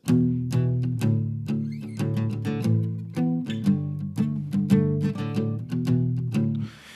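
Palm-muted electric guitar chords chug in a steady rhythm, short damped strums with a few ringing accents, played alone and fairly close.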